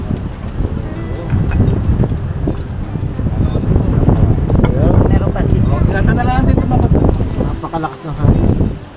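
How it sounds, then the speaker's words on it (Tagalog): Strong wind buffets the microphone with a constant rough roar while a person talks over it nearby, outdoors at an eatery in Torrijos, Marinduque. "Napakalakas ng hangin."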